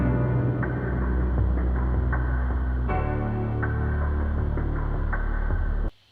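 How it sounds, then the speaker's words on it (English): Drums and piano from a produced beat play together in Logic, a dense, steady mix with rhythmic accents and a sustained low hum, loud and without talk, cutting off abruptly at the end. "And with the piano, it all sounds like this."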